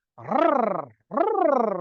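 A human voice imitates engine rod knock, two sustained throaty, pulsing rumbles with a rapid fluttering beat, separated by a short gap, loud and close with no other sound.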